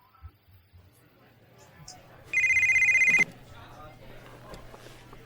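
In the GTA Vice City video game, a telephone rings once in a short electronic trill lasting about a second, loud against quiet game ambience with a low hum underneath.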